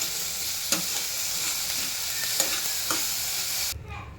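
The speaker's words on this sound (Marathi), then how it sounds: "लालसर थोडा कांदा भाजून घ्यायचा थोडंसं मीठ टाक मऊ पडतं ब्राऊन होईपर्यंत भाजून घ्यायचं" Onion frying in oil with a pinch of salt in a pan for shev bhaji gives a steady close sizzle, broken by a few scraping stirs before it cuts off abruptly near the end.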